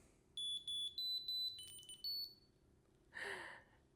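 A wallet tracker card's alert sounds as short, high electronic beeps chirping in quick bursts, followed by a brief louder noisy burst, close and clear.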